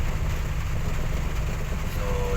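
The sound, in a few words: heavy rain on the road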